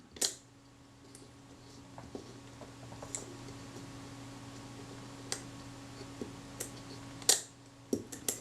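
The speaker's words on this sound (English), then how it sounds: "Now the shutter's firing instantly as soon as I rotate that and cock the shutter." Several small mechanical clicks and snaps sound at irregular intervals over a faint steady hum, close by and fairly quiet, as a Braun Paxette camera shutter trips.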